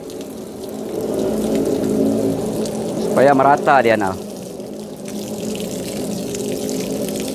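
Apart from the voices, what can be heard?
watering plant growing medium with lots of water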